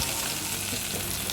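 Butter and flour roux frying in a pan for chicken Alfredo sauce, giving a steady, dense sizzle that fills the whole moment without letup, close and fairly loud, no voices.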